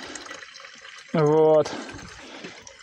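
Spring water poured into the coolant reservoir of a Niva Travel, a brief half-second pour with a hollow, resonant ringing tone. Quiet surroundings, with a voice speaking before and after.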